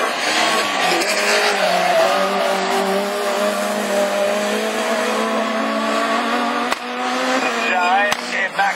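Super 1600 rallycross race cars on the Lessay track, including a new Audi A1 and a Peugeot 206, a loud continuous engine roar with rising and falling revs under a French commentator's voice.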